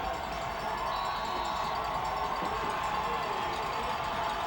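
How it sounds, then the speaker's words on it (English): At a CIAC high school football semi-final between North Haven and Wethersfield, a stadium crowd cheers and shouts in a continuous, even roar heard from a distance. "So the crowd going crazy."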